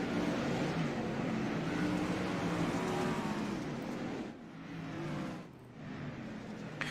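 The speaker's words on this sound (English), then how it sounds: "Restart is on, and Driscoll has green flag in the air." Sprint cars on a dirt track roar together at a race restart, a loud continuous blend of racing engines that surges, dips briefly near the end, then swells again.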